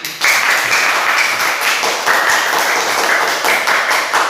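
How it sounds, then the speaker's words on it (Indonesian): A classroom group of children applauds the last group in a cultural heritage lesson, a bright, steady burst of clapping that swells after a brief pause and runs for about four seconds. "Berilah tepuk tangan."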